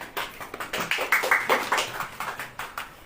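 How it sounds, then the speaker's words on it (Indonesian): A church congregation applauding during a Lenten Sunday worship service, a burst of scattered hand claps lasting a few seconds at moderate volume, with no talk over it. "Tepuk tangan."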